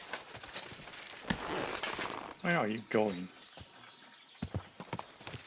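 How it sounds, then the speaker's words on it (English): Horse hooves clip-clop in a walking rhythm in Kingdom Come: Deliverance II, close by and clear, while someone talks over the steps and a short neigh-like call rises in the middle. "And call our trusty steed"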